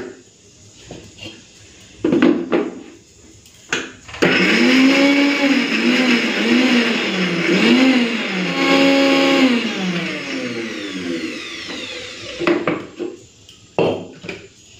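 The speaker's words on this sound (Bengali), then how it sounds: "জল ছাড়া আদা রসুন আর কাঁচা লঙ্কাটাকে বেটে দিলাম" A blender or mixer grinder runs loud and close for about eight seconds, grinding ginger, garlic and green chillies with no water added in a home kitchen. The motor whines as the pitch rises and falls, with clatter before it starts and after it stops.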